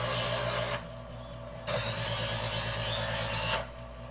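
A knife blade is drawn across a sharpening stone on each side to even the edge, giving two long rasping strokes separated by short pauses, close and steady with no talk.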